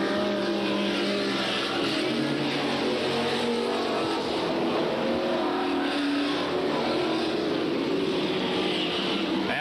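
Super stock race cars from a 1993 event at Freedom roar steadily around the track, a dense, continuous engine drone with cars passing close, loud and unbroken throughout.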